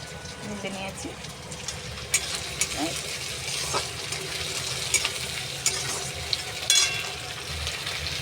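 Ginger garlic paste frying with pre-fried chicken pieces in a pan, a steady loud sizzle with scraping and clinking stirs, and a voice speaking over it.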